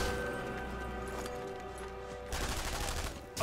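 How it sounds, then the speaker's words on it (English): Gunfire from the video game Sniper Elite 3, a rapid burst of shots and crashing impacts amid a dense, noisy game soundscape, with a louder blast near the end. "I shot him."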